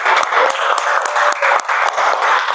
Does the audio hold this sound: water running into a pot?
no